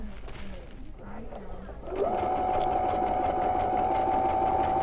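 A sewing machine stitches an overcast seam on a patch, starting after soft handling noise and running in a fast, even mechanical chatter with a steady whine, close up and continuous.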